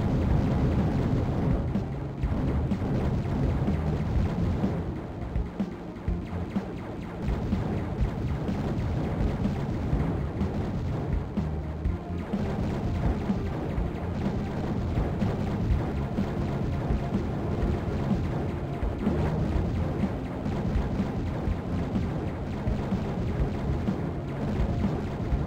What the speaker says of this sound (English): Sometimes can't hear the music over the sound of the explosions